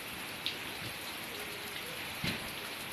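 Steady rain falling during Storm Kajiki in Laos, a constant broadband hiss with a couple of brief louder splashes or knocks, no talking.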